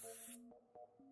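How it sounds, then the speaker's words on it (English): A cooling spray from Japan is sprayed onto a flat surface in one short, bright hiss lasting about a third of a second, followed by faint soft tones. "Just spray it on a flat surface."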